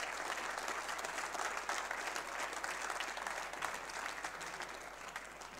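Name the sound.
audience applause after snooker match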